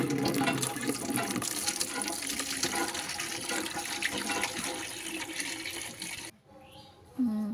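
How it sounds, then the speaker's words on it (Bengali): Water is drawn for a bath, a steady splashing gush of filling water close by that drops away near the end before resuming briefly. "এই যে আমি জল নিচ্ছি দেখো স্নানের জন্য"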